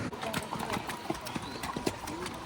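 Horse hooves clip-clop in a quick, regular series of sharp strikes at Betaab Valley near Pahalgam, moderately close, with voices talking in the background.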